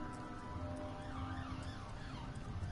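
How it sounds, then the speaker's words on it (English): An emergency siren wails faintly in the distance, rising and falling in slow sweeps over a low steady background hum. "Sorry about the siren in the background."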